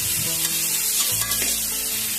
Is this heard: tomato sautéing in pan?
yes